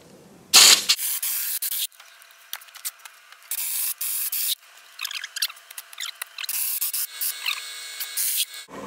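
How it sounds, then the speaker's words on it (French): Scraping on steel reinforcing bars at a building site, heard as repeated harsh, bursty rasping strokes of uneven length separated by short pauses, close and fairly loud. "Je gratte sur les fers"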